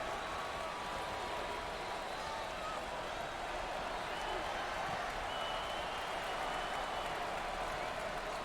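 Basketball crowd in a college tournament video game, with a dense, continuous roar of cheering and applause that stays loud and steady throughout, with a commentator's voice faintly mixed in.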